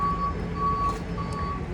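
Steady electronic backup beeps from a reversing truck, three evenly spaced tones heard at moderate distance over a low engine and traffic rumble.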